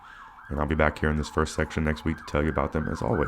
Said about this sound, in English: So I'm sorry for the sirens going by.